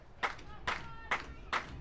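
Four separate bursts of clapping from a baseball crowd at a Brantford Red Sox at Barrie Baycats game, evenly spaced rhythmic claps rising over a low background hum.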